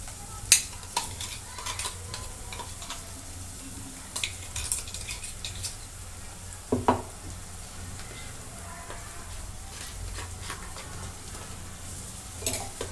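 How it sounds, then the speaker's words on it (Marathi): Coconut, tomato and coriander paste sautéing in a pan, with a soft steady sizzle, occasional stirring scrapes and light clinks of a spoon against the pan, close and fairly quiet, no talk. "आता इथून परतून घेते दोन मिनटं परतून घेते"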